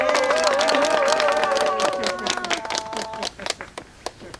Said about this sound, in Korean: 우리 원장님에서 또 큰 박수 한번 부탁드리겠습니다.